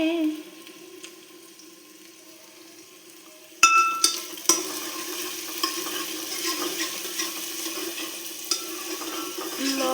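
Potatoes and cauliflower for aloo gobi are stirred in a pan, starting with a sharp clatter, then a steady sizzle with occasional scraping knocks, close by.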